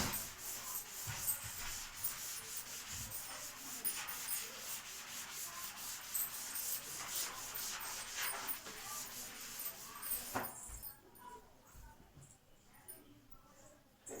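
Chalk or marker writing being rubbed off a classroom board, a steady scratchy wiping that runs for about ten seconds, then drops away to quieter room noise.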